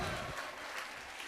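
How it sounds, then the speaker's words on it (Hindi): Faint, steady clapping from a school audience at an annual function, applauding during a stage drama, a soft wash of many hands heard from a distance. "भाई जोरदार ताली हमारे नेताजी के लिए"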